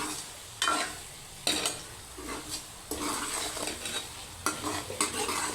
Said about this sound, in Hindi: हल्दी डाल के अच्छे से मिक्स कर लें